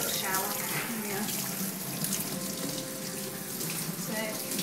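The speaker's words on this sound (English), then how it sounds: "Nice little shower." Running water from a shower spraying steadily while a dog is bathed indoors, a continuous close hiss of flowing water with a faint voice underneath.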